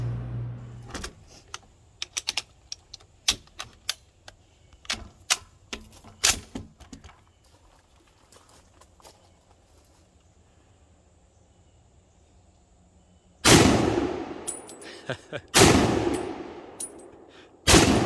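An M1 Garand rifle is fired outdoors, with loud, sharp reports and long ringing tails late in the clip. They follow a series of lighter metallic clicks and clacks from handling the rifle, and no one speaks.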